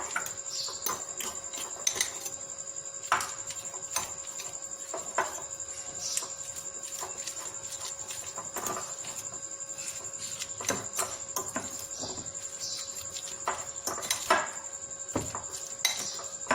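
Mayonnaise sandwich filling with egg, black pepper and salt stirred in a bowl: a steady run of spoon scraping and clinking against the bowl, close and continuous, with no talk.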